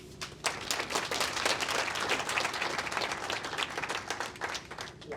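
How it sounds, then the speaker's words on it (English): An audience at a chamber of commerce education and workforce summit in Seattle gives steady, sustained clapping for about five seconds, close and fairly loud. "So let's please give a round of applause to Joe Van."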